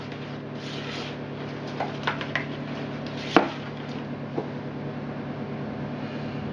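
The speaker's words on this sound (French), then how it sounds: "c'est mon four qui chauffe. Comme j'utilise la chaleur tournante, du coup, il fait du bruit" A fan-assisted kitchen oven heating up gives a steady broadband whir and hum under brownie preparation, with a few light clicks and knocks from utensils scattered over it.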